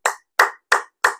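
Four sharp hand claps at an even, steady rhythm, close and crisp with silence between each, done for health.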